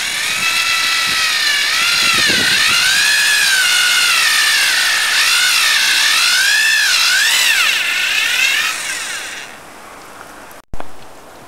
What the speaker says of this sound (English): when you're drilling the tree, you want to drill the hole at a slight upward angle